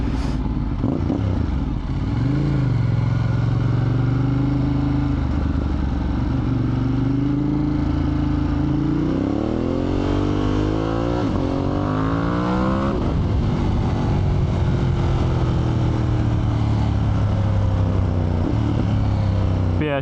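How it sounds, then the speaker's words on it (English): A motorcycle engine runs close by, idling with a rough rumble, then revs up and down in a surge midway before settling back to a steady idle. "Engine sounding extra rowdy today."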